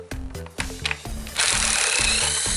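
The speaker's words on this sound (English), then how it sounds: "Now you can proceed by removing a few bolts with 10mm socket." A tool rattles in short bursts while bolts come off a Dodge Charger 3.5 engine with a 10mm socket, then settles into a steady loud whirring with a regular pulsing beat, close up.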